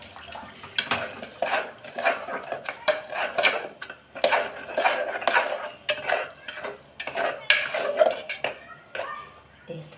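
Ground tomato and chicken 65 masala powder are sautéed in a pan, heard as busy spatula scraping and metallic clatter against the pan in uneven bursts with short pauses between.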